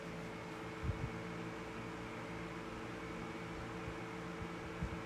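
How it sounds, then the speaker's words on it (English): A 1981 Dayton (Lasko) 16-inch desk fan, model 4C508B, running on medium, giving a steady low motor whine with an even airy hum and a couple of faint knocks. "There's that beautiful motor whine."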